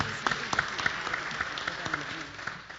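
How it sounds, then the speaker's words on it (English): A town hall audience at a city council budget meeting gives a round of applause, a moderate, scattered patter of clapping with individual claps standing out, fading away after a few seconds. "Let's give them a round of applause as well."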